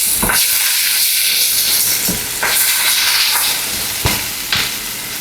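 Vegetables for Hawaiian sauté shrimp sizzle and hiss steadily in a hot pan, with a few sharp stirring clatters and scrapes breaking through the continuous frying noise.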